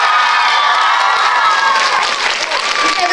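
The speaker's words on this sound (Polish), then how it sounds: "myślę, że zasłużył oklaski trochę" Concert audience at a show in Głogów breaking into loud, sustained applause with scattered cheers and whoops, the crowd close and steady throughout.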